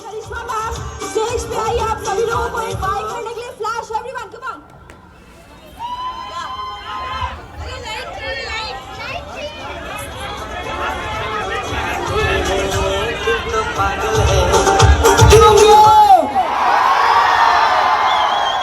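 A large, dense crowd of fans gathers around actress Karisma Kapoor, a constant roar of chatter, shouts and cheers that swells louder toward the end, with voices talking over it.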